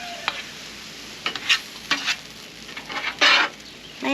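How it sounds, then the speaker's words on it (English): A spatula folds and mixes a nearly finished dish in a hot pan. Intermittent scraping strokes come in bursts over a faint, steady sizzle, close by, with no voices. "I'm just folding everything over,"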